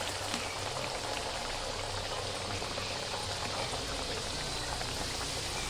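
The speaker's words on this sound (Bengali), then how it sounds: "এবার আমি একে একে ভেজে নেব।" Steady, dense sizzling and bubbling of pea-stuffed kachori deep-frying in hot oil, continuous and fairly quiet throughout.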